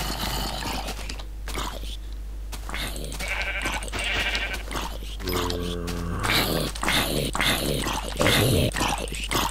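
Bleating sheep calls from Minecraft, several short stretched cries, sounding over a busy mix of game sounds and effects, fairly loud and close.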